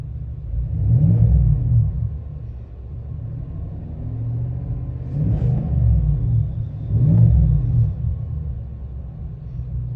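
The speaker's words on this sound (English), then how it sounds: "I don't know if you can hear that little grumble that it's got going" A 2024 GMC Sierra 1500 AT4X 6.2L V8 with factory exhaust in sport mode: deep, rumbling grumble swelling in three throaty surges, steady low exhaust tone between them, fairly close with no talking.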